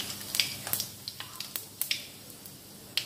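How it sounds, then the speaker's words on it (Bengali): Panch phoron, a teaspoon of Bengali five-spice seeds, dropped into hot oil, giving a quiet steady sizzle with scattered sharp pops and crackles, close and fairly faint, with no talking. "আমি তেলটা তো যেহেতু গরম হয়ে গেছে, পাঁচফোড়ন দিচ্ছি, আমি এক চা চামচ পরিমাণ পাঁচফোড়ন দিয়ে দিচ্ছি।"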